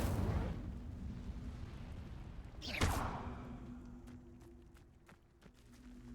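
The Incendio fire spell cast in Hogwarts Legacy: a fading rumble, then one sharp whooshing burst midway, followed by a low hum and faint scattered ticks, all fairly quiet.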